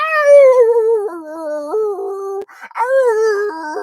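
A human voice imitating howling dogs and coyotes, with long wavering wails that slide up and down, broken by a short gap before a final rising howl, loud and close.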